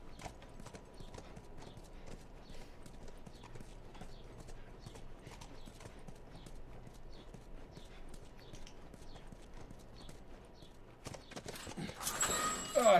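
Horse hooves clip-clop in The Last of Us in a steady walking rhythm, soft and close, as a horse moves along, with a louder rustling burst at the end.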